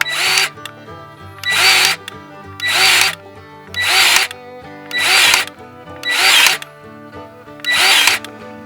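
A Milwaukee power drill runs in seven short, loud bursts of roughly equal length with brief pauses between them. It is heard up close while working on a clogged grease fitting, and no one speaks.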